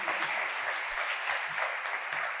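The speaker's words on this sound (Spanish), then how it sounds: "Vamos a darle un aplauso a esta andaluza." An audience at the opening of a Spanish hospitality campus event applauds warmly, a dense steady clatter of clapping throughout.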